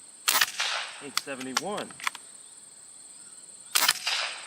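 On an outdoor range, a Beeman Raider air rifle fires two sharp, close cracks several seconds apart. A voice briefly speaks between the shots.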